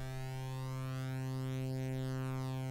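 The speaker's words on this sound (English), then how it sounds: "that is a flanger" A sustained Steinberg HALion 6 synth tone with unison voices detuned by 1 cent, producing a slow sweeping flanger effect; one steady, even note held alone throughout.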